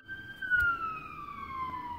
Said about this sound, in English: Oh, are we going to be able to see the sirens?